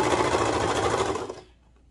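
A sewing machine stitches over a seam while making kids' lounge sweats, running in one steady rapid burst for about a second and a half before stopping, close and fairly loud with no talking.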